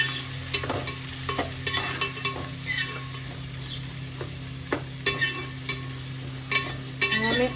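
Chopped onion frying in oil with curry leaves in a home kitchen pan, a continuous sizzle broken by repeated scraping and clinking stir strokes at an irregular rhythm.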